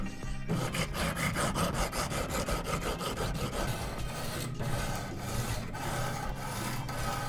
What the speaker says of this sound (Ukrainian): І зараз приступаю якраз таки до заточки.